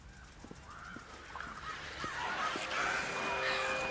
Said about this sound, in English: Fuck's sake, I hate the crows.